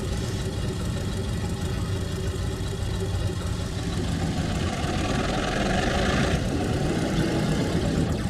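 Diesel train engines in the C&O Hinton route of the video game Trainz 2022 rumble and idle steadily, a continuous, fairly loud, heavy mechanical drone with no clear breaks, and a faint voice is briefly under it.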